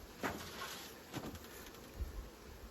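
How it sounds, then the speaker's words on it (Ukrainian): A steady insect buzz of a honeybee swarm fills the clip, dense and continuous like many bees close by, with a few soft thumps and no voices. "Ой, бджоли дуже багато."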